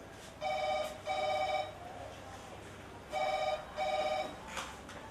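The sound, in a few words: telephone ringing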